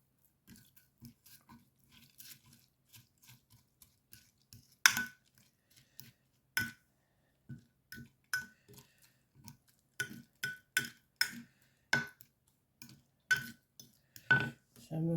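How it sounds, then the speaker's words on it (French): Utensil clinking and scraping against a bowl while ingredients are mixed, sharp irregular taps that grow denser and louder toward the end, close and with no talk. "Donc, on va mélanger ça."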